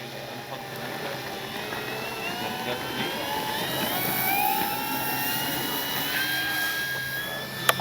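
A 1600mm Flightline P-51D Mustang RC model plane takes off with flaps set, its electric motor giving a steady high whine that swells slightly as it climbs, over outdoor wind noise.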